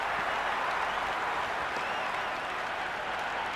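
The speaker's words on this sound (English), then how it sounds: "The crowd love that one." Stadium crowd in the cricket video game Cricket 26 roaring and applauding after a boundary four, a broad steady wash of cheering and clapping at even loudness throughout.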